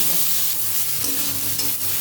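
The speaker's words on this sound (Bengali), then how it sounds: "এবার এই তেলে কেটে রাখা পটলগুলোকে ভেজে" Cut pointed gourd (potol) pieces fry in oil with a steady, dense sizzle and some stirring, continuous and close throughout.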